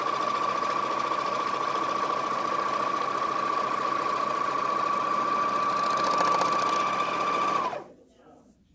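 A Juki MO-600 serger stitches a fabric mask piece, running as a steady, continuous whirring drone at close range for about seven and a half seconds before stopping abruptly.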